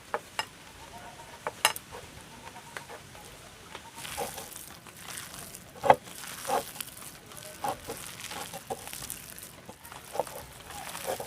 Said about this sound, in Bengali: এখন পেঁয়াজিটাকে খুব সুন্দরভাবে মেখে নিয়েছি।